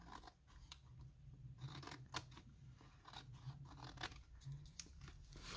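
Scissors snip paper in a glued composition-book art journal, a quick run of close, crisp cuts and rustles at low level with no voice.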